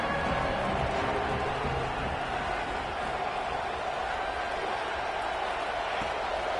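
Stadium crowd noise in an Ole Miss versus Texas college football video game, a steady, dense roar of cheering fans holding at an even level throughout, broad and continuous with no breaks.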